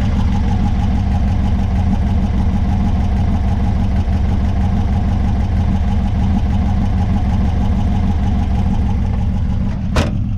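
A car engine, carbureted or fuel-injected, runs steadily at idle outdoors, a constant low rumble with a faint clattering texture, close and loud with no speech, ending on a brief sharp click.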